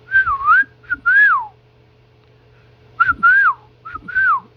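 A pet bird whistles loud and close in short swooping phrases, two bursts, a pause of about two seconds, then two more bursts.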